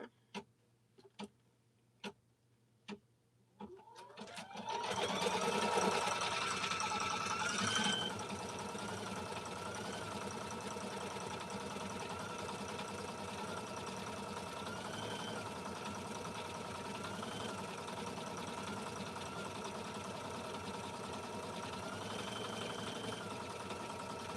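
A quilting sewing machine stitches blue fabric, opening with a few sharp ticks and then settling into a fast, steady mechanical whir that runs continuously. The whir is loudest briefly at the start before easing to a constant hum.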